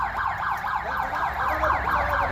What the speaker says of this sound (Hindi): हाँ उधर एम्बुलेंस आ गया।